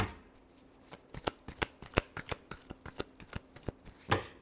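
Tarot cards are shuffled by hand at close range, a rapid run of crisp riffling snaps in an uneven rhythm, with a few louder flicks near the end and no talk.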